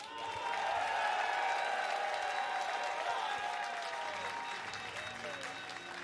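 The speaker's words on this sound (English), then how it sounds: "make some noise for Ence's Serral" A large arena crowd at a StarCraft II grand final at Homestory Cup XX applauds steadily, with scattered cheers through dense, sustained clapping, while an announcer speaks over it.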